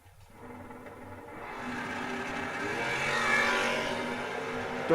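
A pair of drag race cars roars off the line at a memorial race, their engines rising and swelling louder as they pull away down the strip, with no talk over it.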